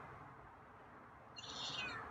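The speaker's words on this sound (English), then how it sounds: "Wow, another meow." A single soft meow from a cat rises near the end, faint against a quiet, hissy background.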